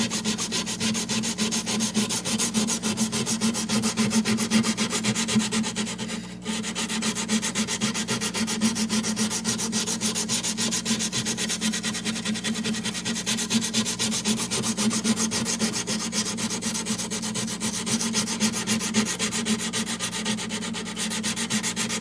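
A wooden knife handle gets hand sanded in steady, rapid back-and-forth strokes, a continuous close scratchy rasp with brief pauses, a faint hum underneath.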